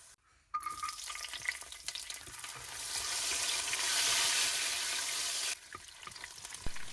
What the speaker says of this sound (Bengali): এরপর সেই ঘিয়ের মধ্যে দিয়ে দিব কিশমিশগুলো দিয়ে ভেজে তুলে নিব।